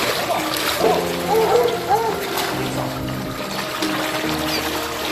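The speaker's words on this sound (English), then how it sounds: "this hero volunteer waded through knee-deep water to rescue the 6 dogs" A volunteer wades through knee-deep floodwater to rescue six dogs, with splashing and sloshing throughout and a faint whimper-like tone in the middle, close and fairly loud.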